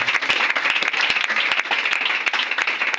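A church congregation at a prophecy and deliverance service claps and applauds for Jesus, a loud and dense burst of clapping that lasts throughout.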